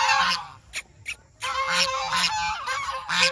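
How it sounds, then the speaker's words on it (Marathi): Ducks at a site near the Nepal border honk in repeated loud, nasal bursts, several calls in close succession with short pauses, close by. "इथं बदक बघा बदक"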